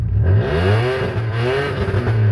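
A heavily modified VW Polo with a Code 6 Stage 2 tune revs hard in neutral, its engine note climbing and dropping repeatedly in loud, close bursts with a raspy, crackling edge.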